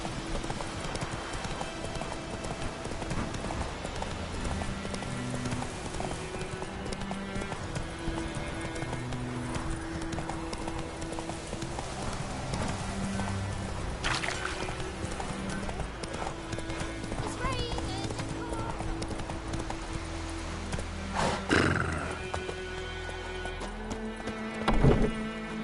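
Roach, a horse in The Witcher 3, gallops with rapid steady clip-clop hooves under game music and voices, with a few sharper knocks near the end.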